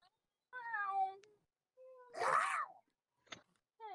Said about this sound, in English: At that moment, my cat started meowing.